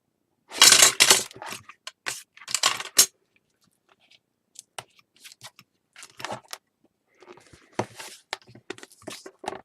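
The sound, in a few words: scissors cutting album cover material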